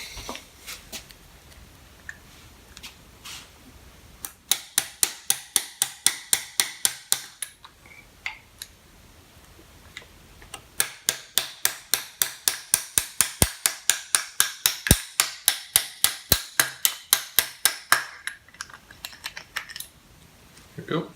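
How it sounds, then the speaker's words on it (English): Sharp metallic hammer blows knock a stuck piston circlip out of a Suzuki GSX-R 750 SRAD motorcycle engine, coming in two long rapid runs of steady, evenly spaced strikes with a short pause between them. "so we need to get the hammer."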